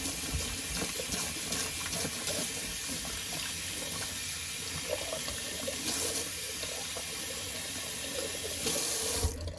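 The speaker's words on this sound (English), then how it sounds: "let me kind of just rinse it out real quick." Hot water runs steadily from a tap into a sink while a flat top shaving brush is rinsed beneath it, a continuous close splashing gush with no talking.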